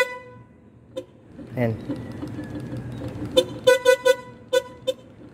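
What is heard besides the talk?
motorcycle horn honking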